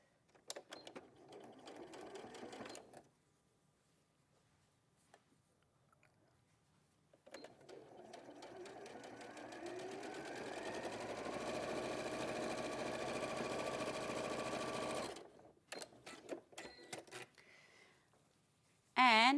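Sewing machine stitching a seam across fabric edges, heard as bursts of rapid mechanical chatter, a short run then a longer steady run of about eight seconds, fairly close with a room tone behind.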